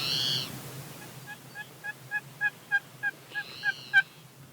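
Wild turkeys call from the roost, a series of about ten short, evenly spaced clucking yelps that grow gradually louder, framed by a couple of longer honking calls, over a faint outdoor hush.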